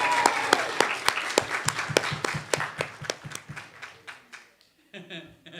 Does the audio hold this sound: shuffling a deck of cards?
no